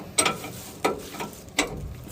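Three sharp metallic ratcheting bursts, evenly spaced, as a ratchet wrench turns a 21 mm nut on the rear shock of a 2004 Chevrolet Silverado, close and distinct against a quiet background.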